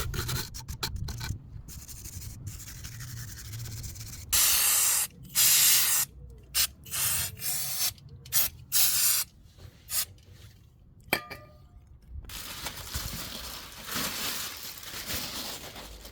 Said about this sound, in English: use some brake cleaner spray before putting on the new disc and pads